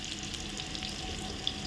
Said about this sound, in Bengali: নেড়ে নিয়ে ব্রাউন কালার করে ভেজে নেবে।